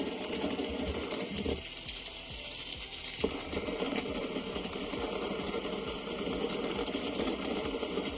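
A small electric motor powered by a homemade gel membrane battery runs steadily, giving a continuous close whirring hum with faint mechanical ticking throughout.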